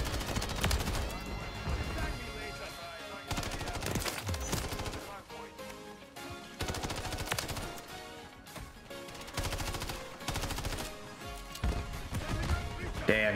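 Gunfire in the Call of Duty: Modern Warfare 3 video game rattles out in repeated bursts of rapid shots, separated by short gaps, over a steady bed of game music and effects.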